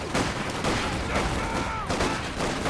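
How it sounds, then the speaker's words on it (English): Mortar shells burst in the strategy game Company of Heroes 2, several sharp blasts arriving every half second or so amid ongoing battlefield gunfire. "Oh, it's a mortar. It's one of my mortar shells."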